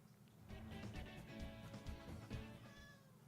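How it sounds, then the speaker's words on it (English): A house cat meows repeatedly in a series of short, clear calls at close range, fairly quiet overall, with a few longer drawn-out mews between them. "Meow. You want to say hi, Coco?"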